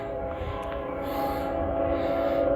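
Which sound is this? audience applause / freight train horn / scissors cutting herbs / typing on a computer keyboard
freight train horn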